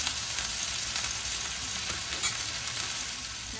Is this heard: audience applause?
no